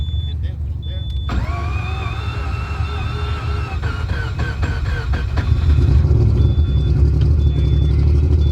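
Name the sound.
Mazda 20B rotary engine car starting up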